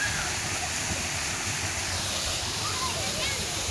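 Irrigation water flows across a farm field in a constant dense rush, loud and close, with no break across the few seconds.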